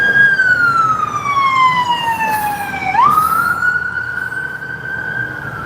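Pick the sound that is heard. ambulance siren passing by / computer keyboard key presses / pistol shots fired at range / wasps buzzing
ambulance siren passing by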